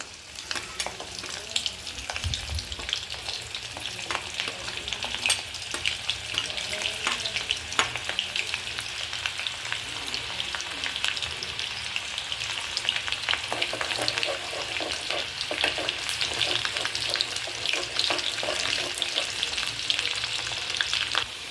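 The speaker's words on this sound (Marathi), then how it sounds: "यात आपण सोलून टेचलेलं लसूण टाकणार आहोत। लसूण चांगला ब्राऊन होतोपर्यंत आपण परतणार आहोत तेलामध्ये।" Peeled garlic frying in well-heated oil for Kokani-style sukat, a steady close sizzle and crackle with occasional stirring scrapes, continuous and even throughout with no talking.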